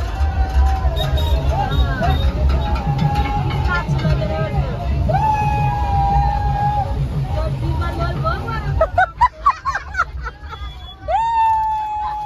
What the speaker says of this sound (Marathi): गाईस आज रविवार आहे म्हणून भरपूर गर्दी आहे.